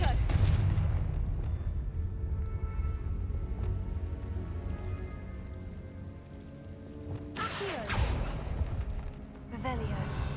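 Fire-spell explosions in Hogwarts Legacy, a heavy booming burst at the start and more crackling blasts near the end, over a low rumbling game soundtrack, with a man calling out spell names.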